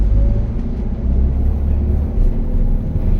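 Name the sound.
Toyota Avanza 1.2 engine after gear change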